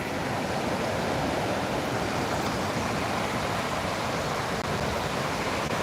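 Water rushes continuously in a loud, broad, unbroken roar, a steady flow pouring over a check dam nearby.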